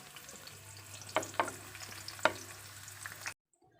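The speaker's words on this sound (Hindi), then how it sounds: "मैंने यहाँ पे आधा कप ऑयल का ले लिया है और इसमें मैं 2 प्याज डालूँगी" Onions dropped into half a cup of hot oil for chicken biryani, a quiet steady sizzle with a few sharp crackling bursts, then the sound cuts off abruptly near the end.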